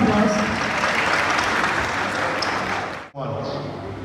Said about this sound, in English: We'll give a huge round of applause.